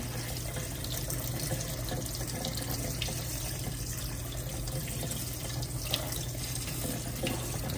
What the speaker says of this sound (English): And I'm supposed to rinse off the rice.